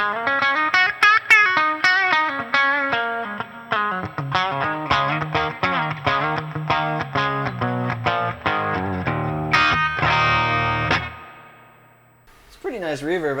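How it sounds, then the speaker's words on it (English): Close, loud electric guitar strumming and picking through a B-52 ATX100 tube amp's spring reverb set halfway, notes washing together, ending in a ringing chord that fades away. "Pretty nice reverb, actually."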